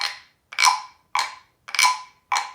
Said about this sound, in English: you take the stick and you scrape the top where the ridges are, and that creates kind of a scraping sound